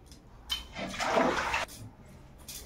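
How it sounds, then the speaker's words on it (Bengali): Wok being scrubbed with running water in a home kitchen, a short rushing splash that swells for about a second then cuts off, close and fairly quiet, no talk. "ঠিক আছে, এবার কড়াটা মাজবো।"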